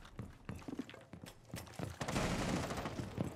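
Gunfire in Rainbow Six Siege, a string of quick, fairly faint shots in irregular bursts that leads into a denser, louder rattle of fire and noise toward the end.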